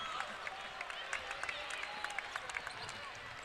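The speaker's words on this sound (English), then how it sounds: "Applause from the Michigan crowd at the hustle from the freshman" Crowd applause at a women's college basketball game in Michigan's arena, a steady wash of clapping and murmur from many spectators, moderately distant, with a few sharper claps standing out.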